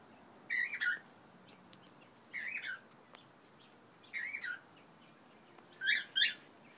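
Cockatiels and quail in a 3 by 1.5 metre aviary, four separate short bursts of chirping calls spaced about every two seconds, moderately close over a quiet background.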